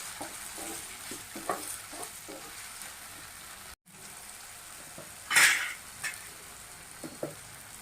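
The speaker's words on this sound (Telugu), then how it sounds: "ఇలా కట్ చేసినటువంటి టమాటా ముక్కల్ని మనం వేసుకుని బాగా వేయించుకుందామండి. తిప్పుకుందామండి." Chopped tomato pieces fry in a pan for a cauliflower-tomato curry, with a steady soft sizzle, spoon scrapes and clinks from repeated stirring, and a brief louder hiss partway through.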